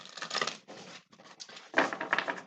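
Quick riffling and flapping of playing cards being shuffled, close up, in a few bursts with short gaps between.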